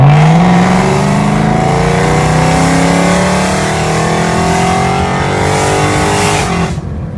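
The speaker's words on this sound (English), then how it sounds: "This is a 4-liter naturally aspirated V8 with 414 horsepower stock at the crank" The 4-liter naturally aspirated V8 of a BMW M3 E93 convertible runs loud and close, its pitch climbing smoothly in one long rev before easing off near the end, with no voices heard.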